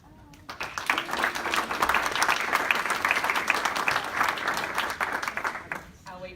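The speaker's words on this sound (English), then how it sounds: "Help me welcome Yolonda and Amaya Tyler." Sustained audience applause and clapping at a keynote talk on the importance of play, a broad steady wash of many hands swelling after a brief quiet start and fading near the end.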